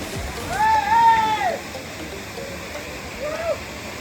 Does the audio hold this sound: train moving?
no